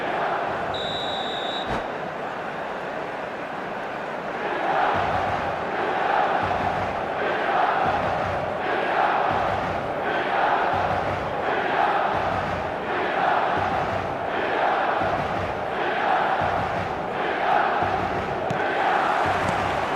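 A large stadium crowd in the eFootball 2026 video game roars steadily with rhythmic chanting surges and whistles, a loud, continuous wash of massed voices throughout.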